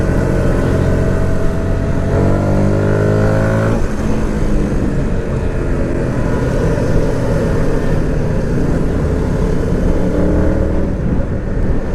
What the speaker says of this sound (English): you're gonna have to excuse the wind noise because I gotta keep my visor slightly cracked